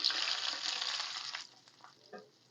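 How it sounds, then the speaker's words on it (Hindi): Hot baghar tempering poured into dahi phulki, a loud close sizzle and crackle that hisses strongly for over a second, then dies down to faint bubbling and a small splash. "ये गरमा-गरम बघार डालेंगे इसमें।"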